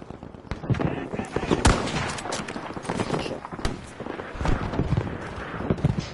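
Gunfire crackles through a Battlefield V match, dense bursts of shots and impacts layered with battle noise, steady and fairly loud for the whole stretch with no clear talk over it.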